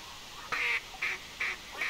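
A flock of ducks in theHunter Classic hunting game quacks in a steady series of four loud, nasal calls spaced about half a second apart, fairly close, with no talking.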